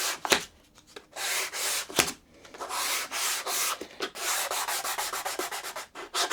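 Sandpaper wrapped over a bullnose profile rubs back and forth along a wooden edge in steady hand strokes, close and rhythmic, with a few sharper taps between passes and no talking.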